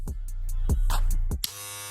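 A Wahl Legend cordless hair clipper buzzes steadily up close, with a few short clicks and bumps as it is handled before settling into a smooth, even hum.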